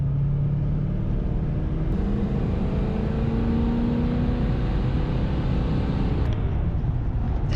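A Duramax diesel 2500 pickup truck drives at speed, a loud, steady low engine drone and road rumble from inside the cab, with a faint rising whine and no talk.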